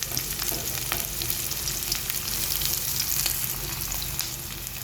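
Onions sizzle and fry in a pan for a Kerala-style camel meat masala curry, a steady close crackling hiss with scattered pops and stirring scrapes, no voices.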